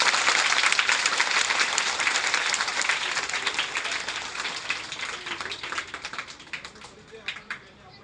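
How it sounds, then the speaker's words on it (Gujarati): A school audience at a snake awareness program claps together in loud, dense applause that gradually thins and fades toward the end, with a few scattered claps at the close. "શાળા પરિવાર તરફથી આપણે જોરદાર તાળી પાડીને એમનું સ્વાગત"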